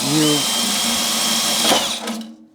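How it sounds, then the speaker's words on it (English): A power drill with a bit drilling out a rivet on a BC250 mining rig during a fan modification, a steady whirring drone with a short higher-pitched burst near the end before it winds down; a voice is audible briefly at the start. "you want to take your drill bit and you want to line it up with the hole, the rivet"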